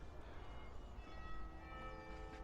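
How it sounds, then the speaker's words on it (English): Church bells ring faintly in the distance in Birmingham, tones sustaining over a steady outdoor background hum. "Hear the church bells going."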